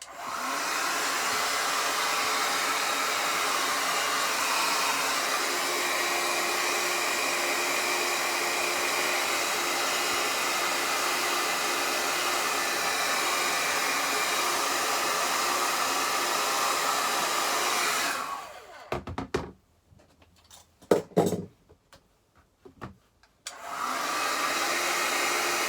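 A hair dryer blows steadily to warm a sticker on a Thetford toilet electric ventilator so it loosens, a loud continuous whooshing hum close by that cuts off near the end with brief clunks before running again.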